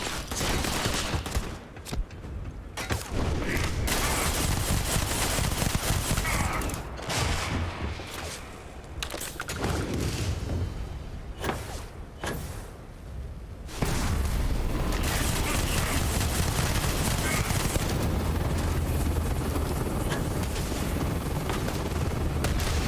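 Loud gunfire roars from a weapon in the space game Starfield, with dense bursts of shots and booms broken by short gaps, and the firing resumes near the end.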